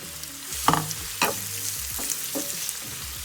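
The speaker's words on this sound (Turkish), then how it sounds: "Şimdi bir tane ince ince doğranmış soğanlarımı tavamın içine atıp biraz kavuracağım." Finely chopped onions sizzle steadily in hot oil in a pan, with a few sharp clatters of stirring against the pan at irregular intervals.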